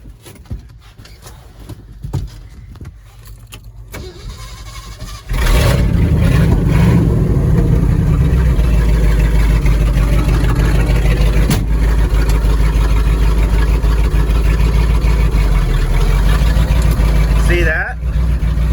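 A 1969 Ford Highboy truck is driven in snow in front wheel drive, with a low engine rumble that surges loud and steady after a quieter start, heard from inside the cab under occasional talk.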